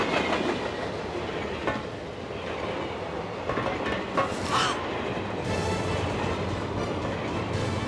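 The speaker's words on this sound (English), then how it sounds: "This train is called Traum." The train Traum rolls along rails in the video game Spy Fiction with a continuous rumbling roar and rhythmic clickety-clack. Occasional brighter metallic squeals and clatters rise over the steady rail noise.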